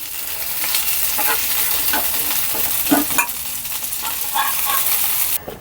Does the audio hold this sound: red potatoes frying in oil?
yes